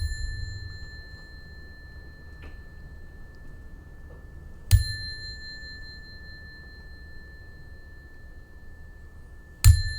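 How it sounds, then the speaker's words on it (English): A meditation bell rings twice, a bright sustained tone struck at about five seconds and again near the end, each strike ringing out over a quiet room with a low steady hum beneath. "I'll ring the bell before and after."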